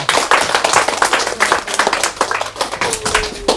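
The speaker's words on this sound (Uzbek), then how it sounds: "Qarsak chalib qo'yamiz ha." Family members clap their hands at a birthday celebration for a father in Qumqo'rg'on, Jaloir, with quick, dense, continuous applause close by over background music for the full few seconds.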